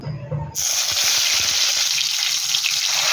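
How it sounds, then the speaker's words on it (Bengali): Eggplant slices for begun sundari drop into hot oil in a wok and burst into a loud, steady sizzle after a quiet start, continuing unbroken close to the pan. "এবার ওই তেলে বেগুনগুলোকে ভেজে নেব"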